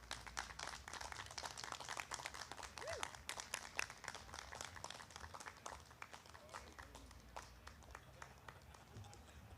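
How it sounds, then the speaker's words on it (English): A lecture audience applauds steadily at the close of a talk, with dense, sustained clapping throughout and a few voices mixed in. "Once again, a round of applause for Marcus Atkinson."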